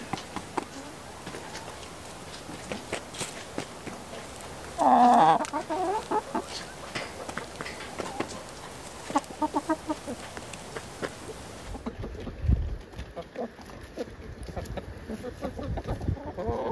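Chickens clucking outdoors at a homestead where framing lumber is being cut, with a rooster-like call partway through, repeated short clucks close by and insects buzzing in the background.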